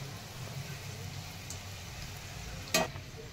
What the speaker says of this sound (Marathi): छान असे गोल्डन कलरवर तळून घ्यायचे आहेत.